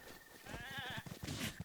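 In Zelda: Breath of the Wild, a goat in the Ash Swamp gives a single short, wavering bleat. It is faint against quiet background sound and is followed by a few soft knocks.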